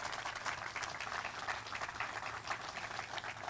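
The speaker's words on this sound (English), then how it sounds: "And I'd like a little separate applause for Joe Block," Applause from the crowd at an outdoor groundbreaking ceremony, a faint, even spatter of scattered hands clapping continuously, sounding somewhat distant and thin with no voices over it.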